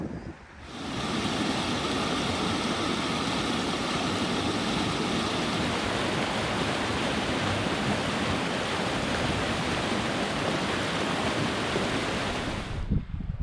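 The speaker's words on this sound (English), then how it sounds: "The wind is kicking up all of a sudden out of nowhere." Strong wind gusts across open water in boreal lakeland during a solo canoe trip, a loud, continuous rushing roar that buffets the microphone and holds steady for the whole stretch.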